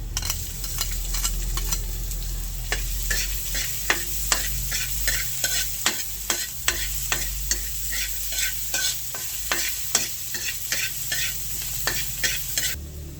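Onion and ginger sizzle together in a pan under a constant frying hiss, with regular sharp scrapes and clacks as a utensil stirs them. No one speaks.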